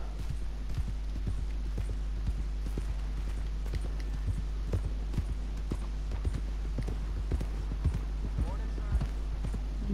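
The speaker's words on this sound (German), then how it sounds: "Dann reite ich einfach mal so." Horse hooves clip-clop steadily on the ground while riding in Red Dead Redemption 2, a continuous close rhythm of hoofbeats over a low background hum.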